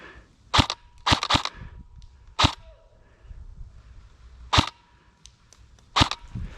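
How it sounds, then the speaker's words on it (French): Airsoft guns firing during an outdoor airsoft game, heard as about six sharp, separate cracks spaced unevenly over several seconds with quiet pauses between them. "On me tire dessus au loin."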